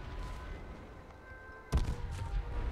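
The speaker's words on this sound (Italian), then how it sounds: "Che sono tutte queste esplosioni?" Explosions in a battle royale video game: after a quiet stretch, one sudden heavy blast hits, then settles into a rumbling, crackling tail.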